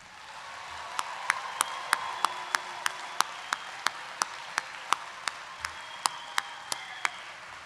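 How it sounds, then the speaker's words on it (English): A large commencement audience gives a university's fall graduates a final round of applause indoors, a steady wash of many hands with sharp individual claps cracking out at a regular beat over the crowd. "let's give our graduates one final round of applause"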